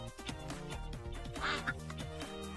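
A duck quacks in a Minecraft modpack, a short nasal burst near the middle, set against steady game music and background sound that continue throughout.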